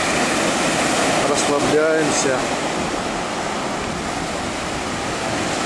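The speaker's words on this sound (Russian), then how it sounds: "Так что смотрим на волны, слушаем шум волн" Sea waves in Lazurnaya Bay (Shamora), Primorsky Krai, roar in a steady broadband wash from close by, with someone speaking briefly over the surf.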